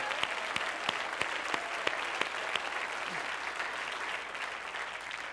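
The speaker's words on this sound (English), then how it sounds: "Somebody clap your hands and give him praise." A church congregation claps in praise during a sermon, producing a steady wash of applause with sharp individual claps standing out, sustained and fairly even throughout with no talking.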